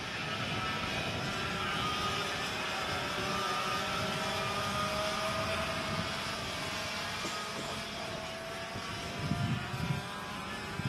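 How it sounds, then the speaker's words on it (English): Racing karts with Vortex VLR 100cc single-speed air-cooled engines run on a track at a race, making a continuous loud buzzing engine drone that stays steady throughout. "100cc, single-speed, air-cooled engines. They're all manufactured by Vortex. The model is called VLR."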